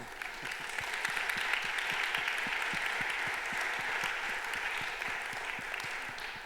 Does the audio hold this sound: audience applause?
yes